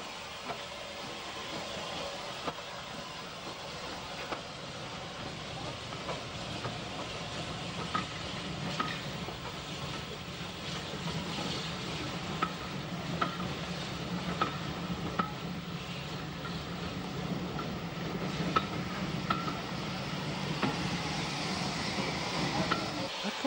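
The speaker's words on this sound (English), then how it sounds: "filmed the train leaving Ballymena" A train rumbles and hisses steadily as it pulls away from Ballymena station, with rhythmic clicks of wheels over rail joints building gradually over about twenty seconds.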